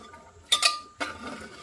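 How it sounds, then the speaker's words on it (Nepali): A spoon stirs drumstick curry in a metal pot, two brief clinking scrapes against the pot with quiet liquid movement between them, no voices. "अब चलाउनुपर्छ हामीले"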